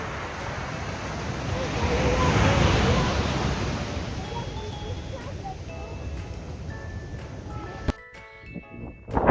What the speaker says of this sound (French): Désolé, il y a du vent.